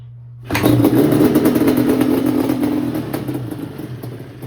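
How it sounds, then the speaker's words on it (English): A Yamaha Banshee ATV, a barn find with dirty carburetors, fires up after quiet hum and settles into a loud, raspy two-stroke idle that runs steadily to the end, close by. "Now it has spark, and surprisingly it fired up when I kicked it."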